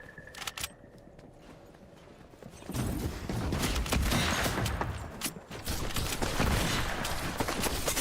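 Bursts of Fortnite gunfire crackle loud and close in a steady broadband barrage that starts a few seconds in and continues to the end, after a quieter opening.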